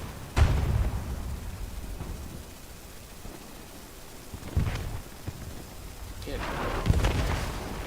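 Self-propelled artillery fires smoke rounds in a World War II tank game: deep, booming shots land several seconds apart over a rumbling battlefield, and the last blasts are the loudest.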